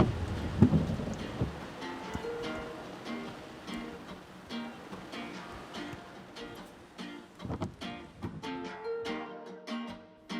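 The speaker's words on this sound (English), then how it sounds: "The rain has calmed down a lot since we arrived" Rain falls on and around a parked minivan on the Bruce Peninsula, a continuous soft patter with irregular louder drops tapping close by, no one speaking.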